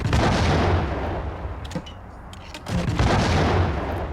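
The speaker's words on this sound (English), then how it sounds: "Somebody's shooting at me and I don't know where they are" Enemy gunfire in the video game Max Payne, a dense run of shots and booming blasts that dips briefly in the middle before surging loud again, with no talk.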